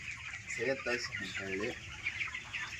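Chickens on a poultry farm cluck in short repeated bursts at moderate distance, with a faint continuous murmur of farm background beneath them.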